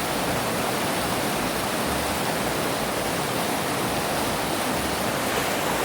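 Stream water at Horse Cove Campground pounding against rocks in a continuous, even rush of broadband roar, close and fairly loud from start to finish without any talking.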